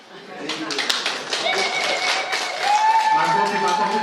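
Audience clapping at a hospital emergency unit opening ceremony, scattered claps under background voices and a faint tone, moderately loud and building toward the end.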